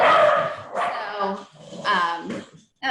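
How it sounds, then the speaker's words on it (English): A pet dog barks and yips a few times indoors at home, the sharp bursts mixed in with a person talking nearby. "excuse me, that's my dog"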